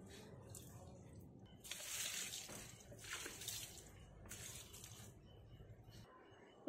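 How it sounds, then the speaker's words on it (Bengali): Water poured onto potted strawberry and cherry plants, a soft splashing stream in several bursts with pauses between, close by, with a voice speaking quietly at times. "নিচে যাওয়ার আগে এই স্ট্রবেরি গাছে একটু জল দেবো।"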